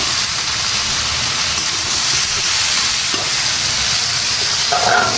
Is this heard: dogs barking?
no